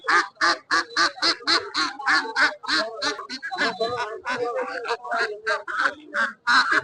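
Ducks quack in quick, rhythmic bursts at a village market on a winter afternoon in rural Bengal. The calls are close and loud, with people talking among them.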